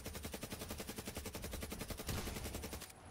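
Rapid automatic gunfire from Black Ops 3 custom zombies, a steady stream of loud close shots at a creature that soaks up bullets, with a louder burst near the end before cutting off.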